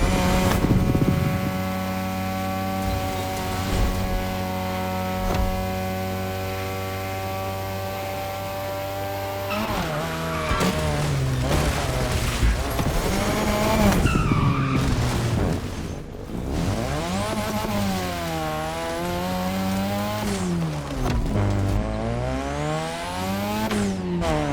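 A 2002 third-generation Mazda RX-7 with a rotary engine racing in The Crew Motorfest: a steady high-pitched engine drone, then repeated revving climbs and drops through gear shifts.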